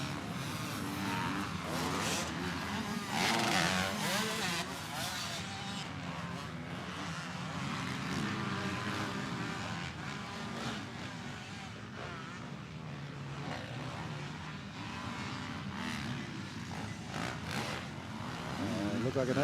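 Motocross motorcycles, including a Honda and Kawasakis, racing at a Loretta Lynn's area qualifier at Winchester Speedpark, with engine drone that rises and falls across the clip and stays loud, mixed with crowd noise and heavy race commentary.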